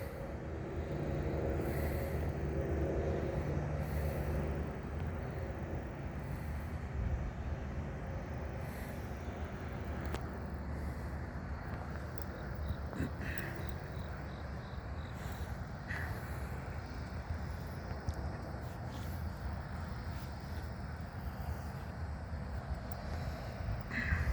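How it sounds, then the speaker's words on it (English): A long, slow-moving southbound CN oil train led by ET44AC, SD70M-2 and ES44DC locomotives rolls past as a steady, sustained rumble of rail cars and wheels lasting throughout, with a few faint higher squeals over the continuous low roar. "Long, slow-moving train."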